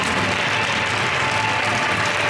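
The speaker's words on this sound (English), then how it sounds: "the crowd giving a standing ovation" A wrestling crowd gives a standing ovation after a match, a steady, dense wash of clapping that fills the whole moment with little else audible.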